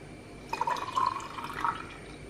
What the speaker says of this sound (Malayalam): ഇനി അടുത്തത് നമുക്ക് ഇത്രയും കോഫിയാണ് ഒഴിക്കാൻ പോണേ കേട്ടോ.